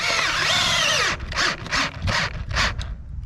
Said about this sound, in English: Then you can screw in an eyelet really fast.